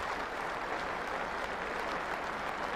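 A big cricket crowd at Lord's applauds umpire Dickie Bird, sustained dense clapping that holds steady and loud throughout, with no break and no voices standing out.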